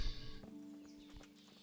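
Horse hooves clop a few times in the medieval video game Kingdom Come: Deliverance, soft and fairly faint, with a low hum underneath and no talking.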